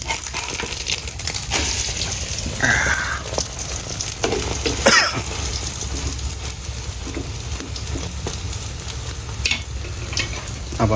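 Eggs frying in mustard oil for a breakfast cooked with carrots, giving a steady loud sizzle over the whole stretch. A utensil clinks and scrapes as the food is stirred now and then, and nobody speaks.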